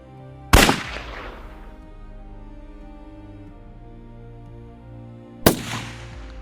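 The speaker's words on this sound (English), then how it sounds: "The second explosion caused a fire, and the soldiers stopped moving." Two sharp, loud explosions from FPV drone strikes in front-line war footage, several seconds apart, each a sudden crack that decays into a rumble over a low steady hum.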